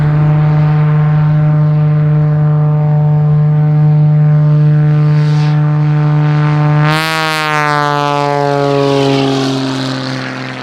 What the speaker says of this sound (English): freestyle motocross rider, Tom Richards, made a Cordova backflip and a heel clicker backflip over a flying plane.